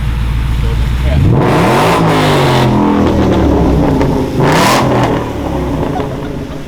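A supercharged Whipple Mustang GT engine tuned for E85 revs hard several times in neutral, rising and falling in pitch, loud and close, with people talking over it.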